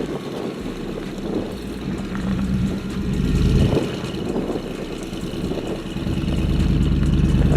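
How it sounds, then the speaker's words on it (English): A Hummer H2 drives off-road over uneven terrain with a locker engaged, its engine a steady low rumble that swells and eases as the wheels climb, with no talk. "the H2 confidently drives with a minor spin of 3 wheels"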